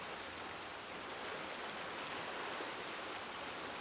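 Rain falls steadily as a soft, even hiss, faint and continuous with no other sounds.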